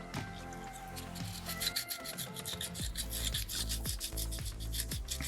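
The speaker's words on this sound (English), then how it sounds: "It just needs a quick once over just to kind of scuff that stone up." Soapstone being sanded to scuff its surface during the carving of a small fox figure, with quiet repeated rubbing strokes in an irregular rhythm and faint tonal hum behind them.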